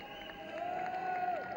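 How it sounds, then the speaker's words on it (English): A small crowd on the far side of a junior men's hockey World Cup match between Argentina and India gives light, distant applause and cheering for the Indian players, a steady, faint wash of sound with no one speaking nearby. "the Indian players just getting a little bit of applause on the far side from the few players that have stayed up"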